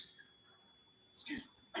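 A short, sharp sneeze bursts out close to the mic after a quiet pause, quickly followed by a second burst as the clip ends, with no speech around it.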